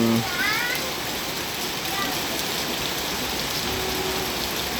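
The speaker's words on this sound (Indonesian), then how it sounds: "kembali hujan yang lumayan deras" Fairly heavy rain falls in a constant, even hiss, with a short meow-like sound near the start.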